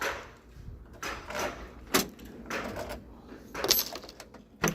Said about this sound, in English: Okay, let's try to unlock.